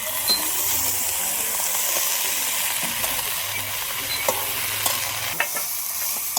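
Fish head, bottle gourd stems and potato stir-fry in a pan, a loud continuous sizzle with scattered clicks and scrapes of the spatula throughout.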